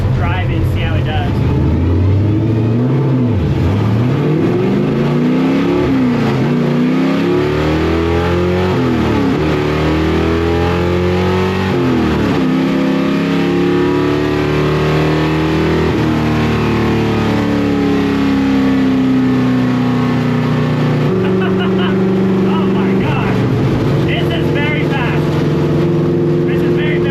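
A 1955 Chevy gasser drag car makes a soft launch at a drag strip, its engine revving loud and close with rising, shifting pitch sweeps as it pulls away through the gears, and some talk comes through over it.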